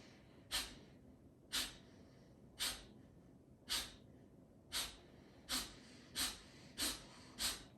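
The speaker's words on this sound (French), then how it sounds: "L'inspiration, vous inspirez et vous inspirez 1 ou 2, on ne compte pas. L'expiration est rapide," Rapid pranayama breathing with quick forceful exhalations through the nose, ten sharp puffs at a steady rhythm about every 0.7 seconds, close and clear against a quiet room.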